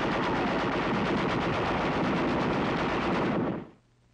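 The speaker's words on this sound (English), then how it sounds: "The captured Jap 25 light Nambu fires alongside our caliber 30 heavy machine gun." A captured Japanese Nambu light machine gun and a caliber .30 heavy machine gun fire together in 1945 combat, a loud, unbroken rapid automatic burst that stops abruptly near the end.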